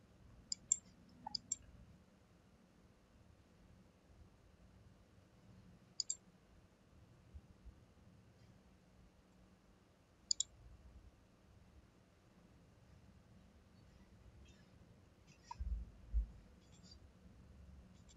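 Sharp, faint mouse clicks in ArcGlobe mapping software, isolated single and double clicks scattered irregularly over a quiet background hum.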